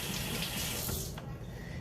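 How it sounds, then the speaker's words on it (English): Tap water gushes into a sink in a loud, steady close-up stream while hands are washed before baking challah. "First thing that I'm going to do is wash my hands."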